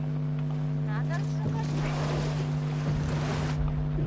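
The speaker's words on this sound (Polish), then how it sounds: "Łódeczka." A boat sails across open water in the PS5 Pro game God of War Ragnarok. The water washes and the ship hums steadily throughout, with a brief swell of splashing in the middle and a faint voice early on.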